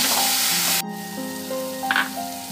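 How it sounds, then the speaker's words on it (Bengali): Spice paste with onion and garlic is sautéed in hot oil for tel koi, a loud close sizzle that drops abruptly in intensity after the first second, with a brief stirring clink later. "এবার আমি ভালো করে মশলাটা কষে নেবো যতক্ষণ পেঁয়াজ আর রসুনের গন্ধটা না চলে যায়"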